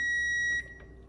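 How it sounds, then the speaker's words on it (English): A kitchen timer in a cooking setting gives a single steady, high electronic beep lasting about half a second, loud and close, before fading into quiet room noise. "There's the timer."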